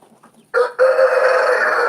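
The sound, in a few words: hens clucking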